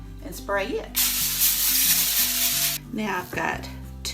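Cooking spray hisses steadily for about two seconds onto foil lining a crock pot, loud and close, with brief clinks and rustles of handling before and after.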